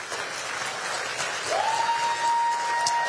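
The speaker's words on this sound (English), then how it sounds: "Give a round of applause, please." Audience applause for election candidates at a Virginia campaign event, a short steady wash of clapping with a faint tone rising underneath partway through.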